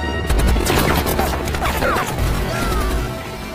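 Gunfire from an attack helicopter in a war film hammers in rapid dense bursts with crashing impacts, loud and chaotic over heavy rumble.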